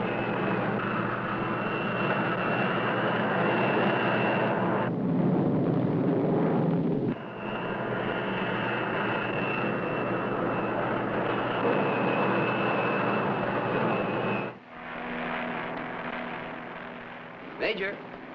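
A loud, steady propeller-plane drone roars close by in the TV series Man with a Camera, with a couple of abrupt shifts in tone as it continues.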